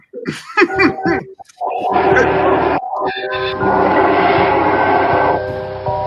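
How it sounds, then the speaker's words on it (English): A loud, piercing bird call with rising whistled notes, repeated over a steady droning background hum. "Screaming piha."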